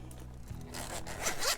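A zipper drawn along a two-layer hook storage case, one quiet, smooth pull lasting about a second and rising to a brief raspy finish, close up and with no voices.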